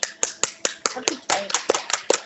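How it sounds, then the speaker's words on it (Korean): Sharp, separate hand claps from a small church gathering, about a dozen crisp slaps in an uneven rhythm, fairly close, with a few faint voices in between. "박수."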